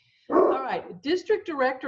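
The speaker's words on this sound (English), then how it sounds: "Now, that's my dog, sorry." A pet dog at home gives a short bark and whine right at the start, then someone speaks over the fading yelps.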